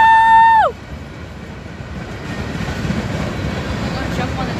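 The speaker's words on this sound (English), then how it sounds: "CSX train and my first military train." A CSX military freight train rolls past at close range after a short horn blast, its steady broadband rumble and wheel noise building and holding through to the end.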